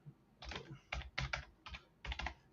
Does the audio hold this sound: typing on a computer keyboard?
yes